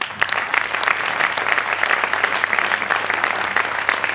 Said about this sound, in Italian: Sul vostro applauso,